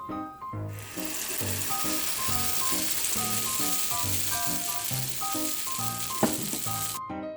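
A continuous hiss of millet pancake batter sizzling in a hot pan, with music playing over it throughout.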